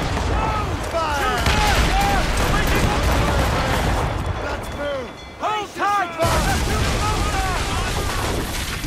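Rifle volley in Assassin's Creed Rogue Remastered during an ambush, a dense barrage of booming shots with several sharp cracks near the middle, over loud shouting voices throughout.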